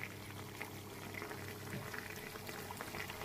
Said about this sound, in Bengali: দেখো মাংস কষানো চলছে আমার।